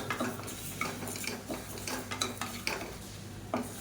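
Moong dal dry-roasts in a cooker, the grains rattling and scraping under a stirring spoon in quiet, uneven clatters with a faint sizzle beneath.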